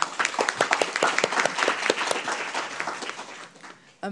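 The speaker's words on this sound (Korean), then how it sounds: "큰 박수로 한번 환영을 표하도록 하겠습니다" An audience at the 2019 Jeju Forum on peace and human rights welcomes a speaker with warm, dense applause from many hands that thins out and fades near the end.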